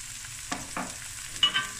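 Salt and masala stirred into chickpea rice frying in a pan, a soft continuous sizzle broken by a few brief scraping stirs, close and quiet, no talk.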